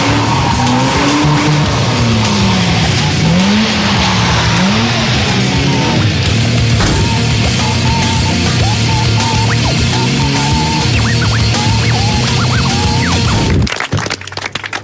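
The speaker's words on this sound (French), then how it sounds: "il faut arriver à faire glisser la voiture avec suffisamment de vitesse" A car drifts at speed with tires squealing in long wavering screeches over a loud revving engine, the sliding and acceleration continuing steadily before cutting off abruptly near the end.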